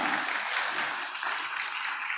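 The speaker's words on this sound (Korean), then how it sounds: "하나님께 영광의 박수 올려드립시다" Congregation clapping together in a church during a Christmas Sunday worship service, a steady dense wash of many hands applauding at once, filling the room without pause.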